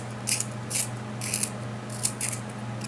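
A pencil is turned in a small artist's pencil sharpener, giving five short, fairly close scraping bursts of shaving at an even pace over a steady low hum.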